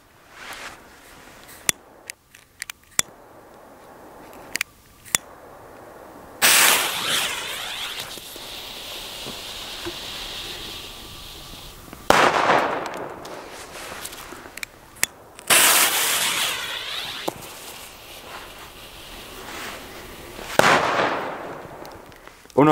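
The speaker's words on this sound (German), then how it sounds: "Und noch Super Böller 2 von Leslie." Leslie Super Böller 2 firecrackers exploding outdoors in the snow: several sharp single bangs early on, then loud sustained crackling bursts with hissing tails, close and dominant.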